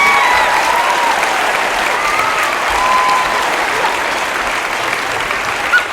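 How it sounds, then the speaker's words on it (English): A large theatre audience claps steadily and loudly after a stage performance, sustained applause filling the whole stretch with a few faint whistles on top. "Let's give our main characters a round of applause."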